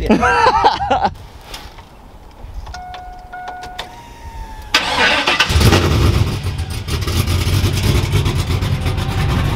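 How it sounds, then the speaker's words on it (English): A cammed single cab truck cranks over after a few electronic chimes, catches and settles into a loud, choppy rumble with revs, close by with people talking quietly around it. "Papa gonna crank the truck up."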